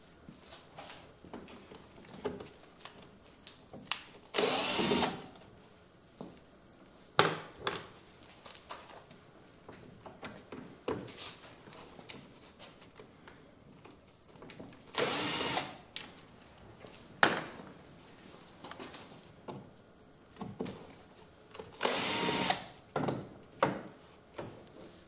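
Three grille screws being undone with a T25 Torx driver on a Mercedes-Benz W639 Vito van, heard as several short bursts of whirring from a power tool separated by quieter clinks and handling noise.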